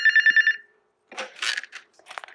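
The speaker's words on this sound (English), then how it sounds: "And oh my, the phone is ringing." A hotel room telephone in a British Columbia layover room rings with a quick burst of bright electronic trills, then stops. Rustling and handling follow as it is picked up.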